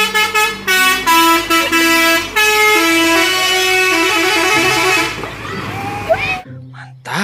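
A large concrete mixer truck passes on a road, its horn honking in loud repeated toots over a rumbling engine, the sound fading as the vehicle moves away near the end.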